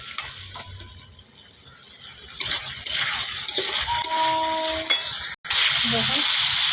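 Ridge gourd and potato are turned over in a frying pan, with a loud, close sizzle and repeated scraping and clattering strokes of the spoon against the pan. A brief drop in sound comes near the end.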